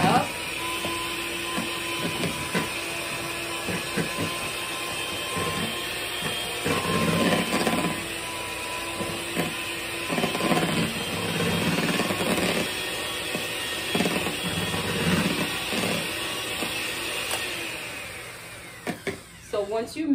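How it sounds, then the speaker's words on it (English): An electric mixer on a medium setting whirs through a batch of Kool-Aid sherbet, its steady motor hum running throughout, with a voice talking over it and the whirring fading near the end. "I'm gonna use this with the electrical mixture, which is gonna get it to mix better"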